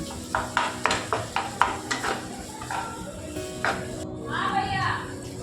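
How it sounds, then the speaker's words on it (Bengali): Banana kofta curry stirred in a pan with a spoon, a run of regular scraping clinks against the metal, then a softer sizzle near the end. "এবার একটুখানি নেড়ে চড়ে দিচ্ছি"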